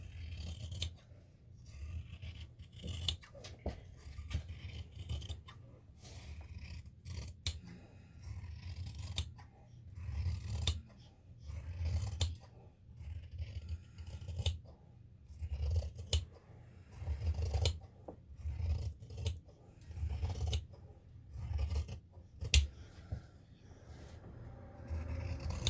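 Scissors cut fabric just outside a chalk line on a gown's stomacher, using the whole blade in long strokes: a close, steady run of crisp snips and slicing rasps with no talk.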